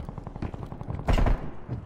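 Gunshots in Call of Duty Cold War Prop Hunt, a quick run of rapid shots with a heavier thump near the middle, moderately loud and close.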